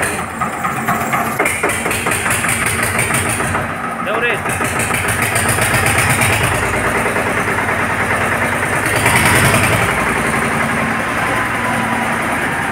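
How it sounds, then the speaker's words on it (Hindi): A tractor engine starts and settles into a steady idle, running continuously under loud talk from several people nearby. "ट्रैक्टर स्टार्ट होगा।"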